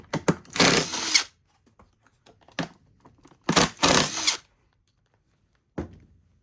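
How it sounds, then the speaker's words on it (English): A cordless driver removing screws from a Numatic Henry NVR200-C2 vacuum cleaner, heard as two loud whirring bursts of about a second each plus short clicks and taps, close up, no talking. "just going to take these screws out"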